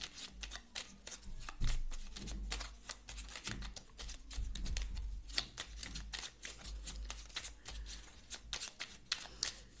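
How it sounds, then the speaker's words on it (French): Oracle cards are shuffled by hand in a quiet room, a run of crisp riffling and flicking bursts repeating irregularly, close and fairly soft, with no talking. "Je vais vous tirer une carte du petit oracle du druide."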